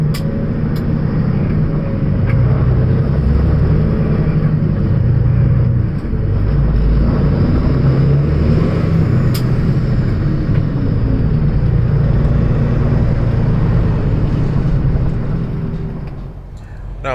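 A truck passing by at a truck show, its steady low engine rumble holding loud and close for most of the pass before fading slightly at the end.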